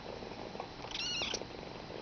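A small kitten purring softly and continuously up close, a faint steady rumble with a brief brighter squeak in the middle.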